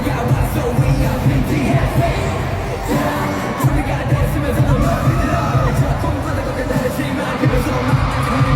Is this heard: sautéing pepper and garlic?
no